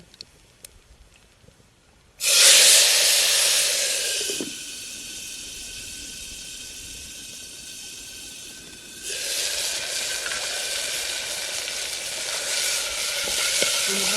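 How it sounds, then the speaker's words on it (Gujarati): Sudden loud hiss as spices and curry leaves hit hot oil for tempering, settling into a steady sizzle, then swelling again as more is added; no talking. "હવે આપણે આ બધું ભેગું કર્યું ને એનો વઘાર કરી નાખીએ"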